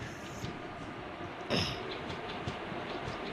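Train in the Indian Train Crossing 3D video game, a quiet steady rolling rumble with a brief bright hiss or squeal midway, no voices.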